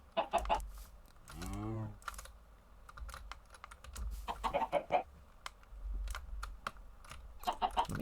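Chickens cluck in a Minecraft fossils and archaeology modpack game, short clucking bursts and one drawn-out squawk scattered among fast computer keyboard typing, all close and fairly clear.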